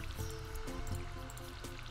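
Watering plants with a watering can in a farming video game, quick trickling and splashing water effects that repeat a few times over light tonal background sound.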